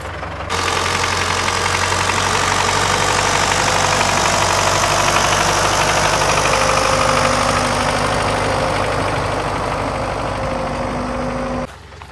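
An MTZ-80 tractor engine runs steadily while digging potatoes with a homemade lifter, giving a loud continuous diesel drone with mechanical knocking. It holds constant for about eleven seconds, then cuts off abruptly near the end.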